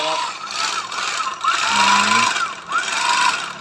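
Sack sewing machine running continuously up close, a steady mechanical whir with rhythmic rattling pulses that rise and fall, and no speech.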